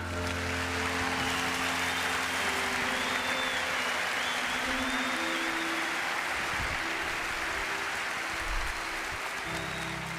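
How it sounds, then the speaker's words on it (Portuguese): Audience applause in a church gathering honoring missionaries, a continuous wash of many hands clapping at even volume, with faint whistle-like tones over it. "Uma salva de palmas por esses missionários."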